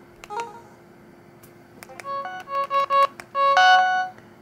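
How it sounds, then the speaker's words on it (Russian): Keypad tones from an LG GS155 mobile phone, a string of short clear electronic beeps pressed one after another at uneven intervals, close and alone with no talk. "Пока поставлю звук клавиш 4."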